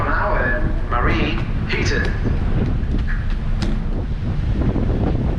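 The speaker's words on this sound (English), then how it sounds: "It's going to be really windy up here because we are at sea." Strong wind buffets and rumbles constantly across a cruise ship's open sports deck at sea, with a low roar underneath and occasional brief voices or gusts cutting through.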